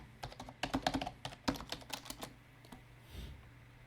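Someone types a password on a computer keyboard, a quick irregular run of close, crisp key clicks that thins out toward the end.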